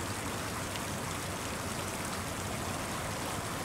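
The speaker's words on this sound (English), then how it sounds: "So what I do sometimes is I go to a fountain" Fountain water splashing and spattering in a dense, unbroken hiss, steady and close throughout with no voices.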